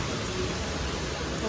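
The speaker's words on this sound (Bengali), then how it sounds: "বাইরেই বৃষ্টি হচ্ছে কি জোরে" Heavy rain falls outside in a dense, continuous wash of noise, loud and unbroken.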